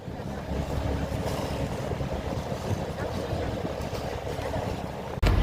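Steady boat motor drone mixed with gusting wind and sea noise as fishing boats approach on a windy, wavy sea, continuous and fairly loud, with a voice talking over it and a sharp bump near the end.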